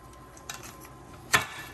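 Bones for bone broth dropped into a cooking pot, giving one sharp, clattering knock that stands out clearly against a quiet kitchen background.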